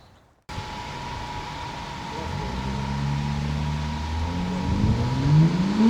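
A BMW F80 with the S55 engine and an Active Autowerke equal-length midpipe exhaust starts up and revs, its drone climbing steadily in pitch and loudness over a constant background hum.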